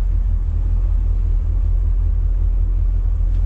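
A 1964 Chevrolet Corvette convertible with a 327 V8 of 250 hp idles steadily after starting, a constant deep low rumble that stays loud and even throughout.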